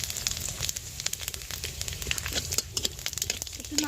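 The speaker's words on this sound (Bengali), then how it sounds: "তেলটা গরম হয়ে গিয়েছে, দুটো তেজপাতা দিয়ে দেব। হাফ চামচ 5 ফোড়ন দিয়ে দেব।" Bay leaves and panch phoron spices crackle and sizzle in hot oil, a steady dense frying hiss with many small sharp pops close by, no voices.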